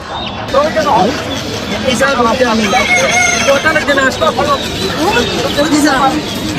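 Chickens cluck and a rooster crows amid a busy traditional village market in Bangladesh, with steady crowd chatter and people talking nearby throughout.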